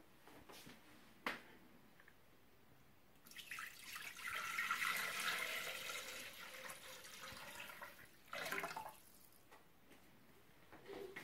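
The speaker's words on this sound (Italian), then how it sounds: "Andiamo a mettere l'acqua." Water is poured into a Thermomix TM6 mixing bowl, with a steady splashing stream in the middle and a few clinks and knocks before and after, all fairly faint.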